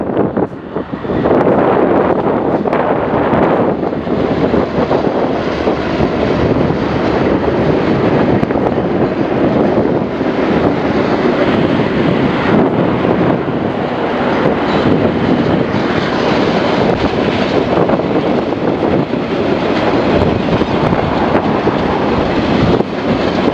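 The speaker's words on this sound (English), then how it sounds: "here's some footage I took of DL9285 and DXC 5419 speeding through the area in January 2017" Loud, sustained roar of locomotives DL9285 and DXC 5419 speeding past at close range, a dense continuous engine and rolling rumble lasting over twenty seconds, buffeted by wind noise, with no talking.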